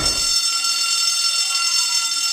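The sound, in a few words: alarm bell ringing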